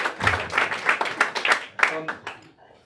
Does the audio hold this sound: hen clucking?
no